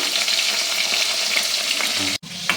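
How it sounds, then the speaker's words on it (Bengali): Loud, steady sizzle of oil frying in a pan, a dense continuous crackle that cuts out briefly near the end before resuming. "এই যে তেল ঢেলে দিল, তেলটা গরম হলেই"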